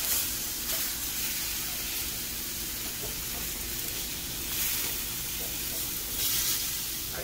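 Eggplant slices sizzle and fry steadily in a hot pan just after being flipped, a close, continuous hiss with slight swells in intensity and no talking.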